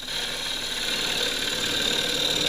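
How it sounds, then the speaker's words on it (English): A power drill bores a depth hole in a green casuarina bowl on the lathe, running steadily with a constant high whine and grinding hum, holding the same pitch throughout without pause. "I'll drill a depth hole now,"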